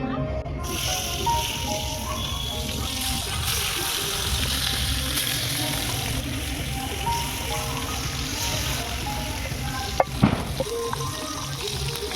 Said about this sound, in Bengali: তেল গরম হয়ে গিয়েছে এবার আমি মাছগুলো ভেজে নেবো